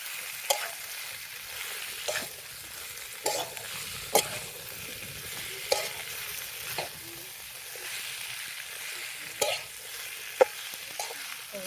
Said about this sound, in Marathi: चांगलं आता आपण मसाल्यामध्ये मिक्स करून घ्यायचं.